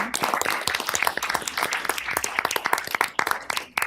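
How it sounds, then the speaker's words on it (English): Applause from the audience at a school board meeting, a dense burst of many hands clapping that fills the room steadily and stays loud throughout. "if we could all give him a round of applause"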